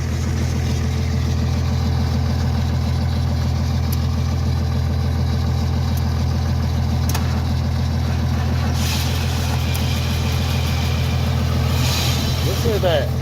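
A long-stored barn-find 1977 Ford LTD Landau sits with its engine running at a steady low idle, a constant rumbling drone throughout with a few faint clicks and brief noises on top.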